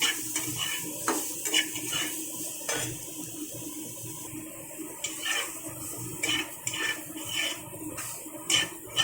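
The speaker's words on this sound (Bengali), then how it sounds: "আমি তেলের মধ্যে একটু নুন হলুদ দিয়ে দিলাম, যাতে সয়াবিনটা একটু কালার আসে। সয়াবিনটাকেও খুব সুন্দর করে আমি ভেজে তুলে রাখবো।" Soybean chunks frying in oil with salt and turmeric, a soft continuous sizzle close by, with frequent scraping stirs and light clinks of a utensil against the pan.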